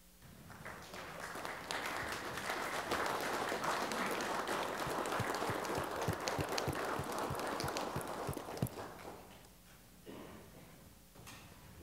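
Applause for local police officers at a Pike County fiscal court meeting: a room of people claps steadily for about nine seconds, dense and even, then thins out into a few scattered claps.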